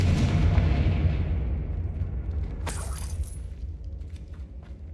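The Confringo explosion spell in Hogwarts Legacy lands as a heavy, booming blast that rolls and decays over several seconds, with a bright crackling burst and scattered debris-like clatter trailing behind it.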